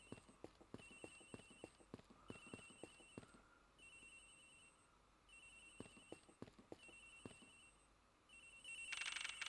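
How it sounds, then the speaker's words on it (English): A phone rings in the Ace Attorney Investigations video game, a repeated electronic trill in regular bursts over soft clopping hoofbeat-like clicks of background music, with no talking. "Agent Hanks' phone is ringing from somewhere, sir!"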